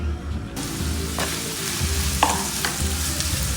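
Onions hit a hot pan and sizzle steadily while being stirred and fried for a paniyaram recipe, with scraping stir strokes close by and no talking.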